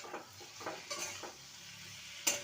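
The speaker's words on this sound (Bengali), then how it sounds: "ভালো করে সমস্ত কিছু আবারও নেড়ে নেব" Drumstick vegetables with spices are stirred in a pot, soft scraping and clinks of a spoon against the metal over a faint sizzle, ending with a sharper clink.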